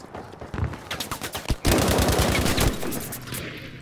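Battlefield V gunfire, rapid automatic bursts crackling close by, first scattered then a loud dense volley that tapers off, in game audio with no talk.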